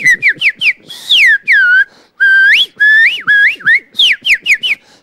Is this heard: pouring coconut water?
no